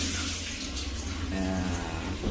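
Hands squeeze and mix spices with fish in freshly poured coconut milk for an Acehnese pete tongkol rendang, a loud, continuous wet sloshing close up throughout.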